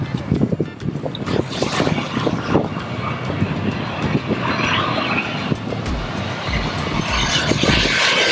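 Jet airliner roaring in low overhead on approach at Maho Beach, St. Maarten, a loud broadband rumble that swells and builds over a busy, noisy crowd.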